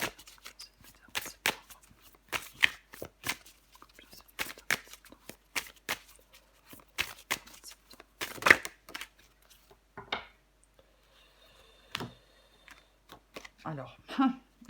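Tarot cards shuffled by hand, a run of crisp rapid riffling snaps and flicks, close and fairly quiet, with a few softer handling sounds toward the end.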